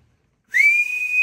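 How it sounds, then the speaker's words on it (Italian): A single sharp whistle after a moment of silence, rising quickly and then held as a steady, loud, close tone. "Ma il cavallo non si chiama fischiando?"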